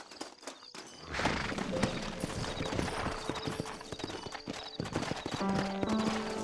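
Hooves clatter in a quick, galloping rhythm in Red Dead Redemption, with a horse whinnying amid the steady pounding; no talking.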